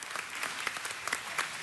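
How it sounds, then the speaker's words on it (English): Applause from the audience in a Los Angeles city council chamber at City Hall, a brief burst of dense, steady clapping from a crowd at moderate distance. "A big round of applause."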